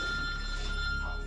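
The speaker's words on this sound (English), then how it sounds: "You're ringing." A telephone rings with a steady electronic trill, fairly close, against a constant background hum, with no voices over it.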